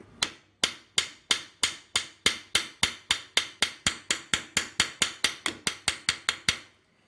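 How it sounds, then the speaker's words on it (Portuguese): The rounded end of a ball-peen hammer strikes the top of a car clutch pin: about two dozen sharp metallic taps in a steady, even rhythm, close and loud with no other sound. "com a parte da bola do martelo, você vai dar umas pancadas na superfície do pino"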